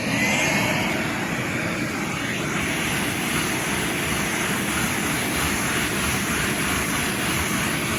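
Steady loud suction roar of a vacuum nozzle pulled rapidly back and forth over an artificial putting green, drawing sand infill up from the fibers; continuous broadband rush with no voices.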